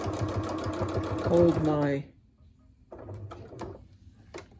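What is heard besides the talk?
sewing machine stitching a baby toy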